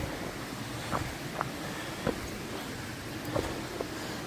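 Waterfall at a picnic spot in Coed y Brenin woodland, a constant broad rushing wash with a few small splashes or clicks scattered over it, no talking.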